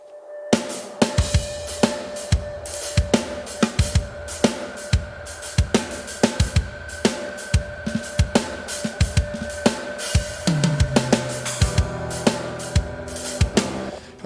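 Programmed heavy metal drum kit using the Ultimate Heavy Drums Cyber Bath Tones preset with no processing, sharp repeated snare and kick hits in a driving rhythm with cymbals, loud and alone.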